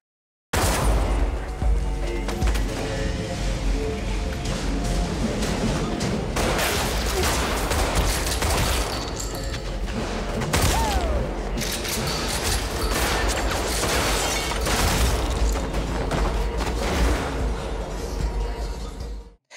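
Gunfire during a shootout in a yakuza video game, dense bursts of shots and clattering mechanisms over tense game music, loud and continuous for most of the stretch.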